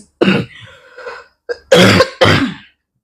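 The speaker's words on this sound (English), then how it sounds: "I still have this cough that is associated with my pregnancy" A few harsh throat-clearing coughs from a pregnant woman, close and fairly loud, with a short pause between the bursts and no talking.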